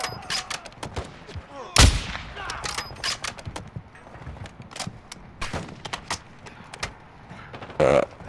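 Gunfire in Call of Duty: scattered sharp shots and bursts with a few louder, heavier blasts, mixed with rustling action and brief voices.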